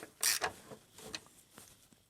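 Screws being tightened until they bottom out on a CCV system part of a manual BMW X5: a loud, close ratcheting creak near the start, then a few fainter clicks and creaks spaced through the rest.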